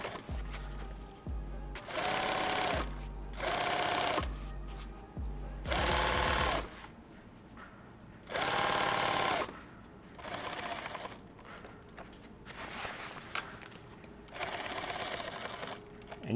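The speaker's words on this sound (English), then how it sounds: "I'm lined up with that center mark here and here, and I'm just going to start sewing right here." A sewing machine stitches fabric for a kit bag, running in about six short, loud bursts with quiet gaps between them.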